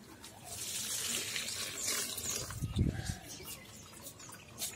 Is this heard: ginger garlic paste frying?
no